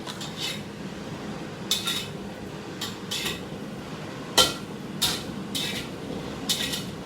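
Jackfruit seeds roasting in a pan with a sprinkle of salt, stirred in bursts so utensil scrapes and clinks land at irregular moments over a low, steady background rustle.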